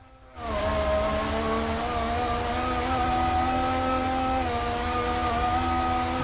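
GP2 race car engine in a racing video game at a rain-soaked China round, a loud sustained high-revving whine that kicks in abruptly after a brief quiet start and holds steady with slight pitch shifts.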